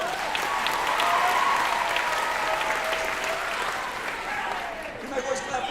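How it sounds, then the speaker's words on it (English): A high school audience gives a speaker's guest sustained applause, a thick and even roar of many hands that fades slightly near the end, with voices mixed in. "You can clap for her."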